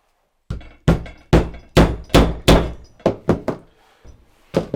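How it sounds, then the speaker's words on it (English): A hammer strikes a metal rivet setter in a series of sharp, loud whacks, close up, in an uneven rhythm of about eleven blows with short pauses. "let's give that a whack with a hammer"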